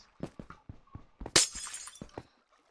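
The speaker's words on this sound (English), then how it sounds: "It sounds like glass." Glass breaks in the Minecraft video game with a sharp, bright shatter in the middle of a run of short knocking taps. It is fairly close and has no talk over it.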